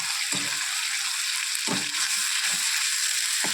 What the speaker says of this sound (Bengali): একটু ভেজে নিলাম। ভাজার পরে সবজি দিয়ে দিলাম।